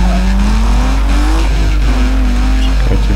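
A car drifting in Need for Speed Underground 2, a loud steady engine drone with rising revs and a tire squeal running through it, close and continuous.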